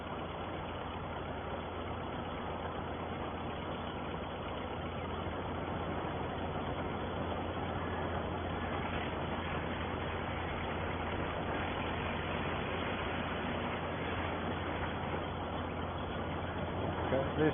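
A tractor engine idles steadily during a grain harvest, a low, even mechanical drone with a faint rumble that holds at a constant, moderate level throughout.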